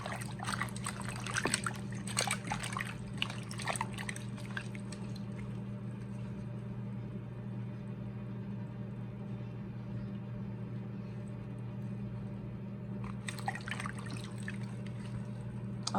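Freshly harvested herbs get a second rinse under running water, a steady trickle and splash that stays close and fairly loud at the start and again near the end, with a softer continuous flow in between.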